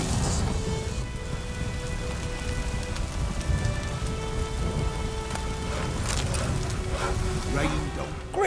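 Steady rain pattering on a surface in The Witcher 3: Wild Hunt, dense and continuous, with a low rumble of thunder in the background.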